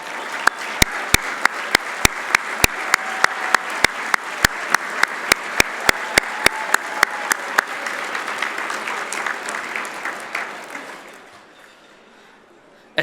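Audience applause at an award dinner: a crowd claps loudly and steadily with sharp individual claps standing out, then the ovation tapers off and fades to near silence at the end.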